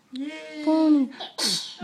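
A young child sneezes, a short sharp burst of breathy noise near the end that follows a moment of cheerful talk in a small, quiet indoor room.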